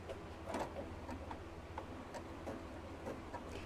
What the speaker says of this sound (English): No, it's going to do a little locky stitch first.